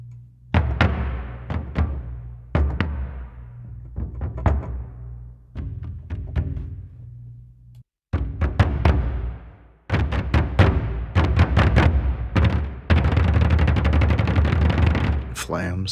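Deep orchestral bass drum and bombo hits from the Spitfire Audio Hans Zimmer Percussion library, booming one at a time in a steady sequence with long decays, then faster clustered strikes and a rapid roll near the end.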